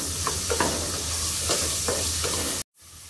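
Mushrooms fry with a pinch of turmeric in a pan, giving a steady close sizzle broken by occasional stirring scrapes, and it cuts off abruptly near the end.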